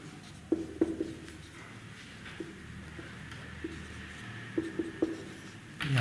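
A pen writing an equation on paper, with faint scratches and light taps in short clusters, close and quiet, with no talking.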